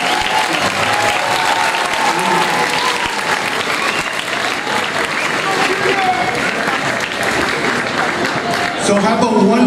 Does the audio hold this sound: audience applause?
yes